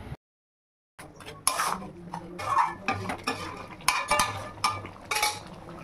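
Mutton being stirred in a pan with Kashmiri chilli powder, meat masala and salt: repeated close scraping and clattering of a spoon against the pot in an irregular rhythm after a brief silence, with no talk.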